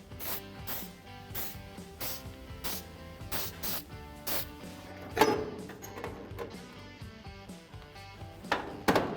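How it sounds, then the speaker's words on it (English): Repeated short hissing bursts of a layout fluid aerosol can on a 1967-72 Chevrolet C10 cab panel, a rhythmic series of quick sprays close by with a few clicks and rattles. "we're ready to put the panel back on once we spray some layout fluid"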